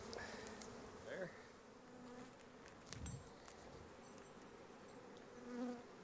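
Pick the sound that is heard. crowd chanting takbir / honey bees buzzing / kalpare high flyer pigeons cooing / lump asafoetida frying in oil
honey bees buzzing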